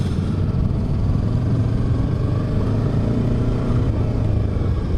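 A Yamaha R3 motorcycle engine while riding in second gear, a loud steady low rumble and drone heard up close, unbroken throughout, with no talking.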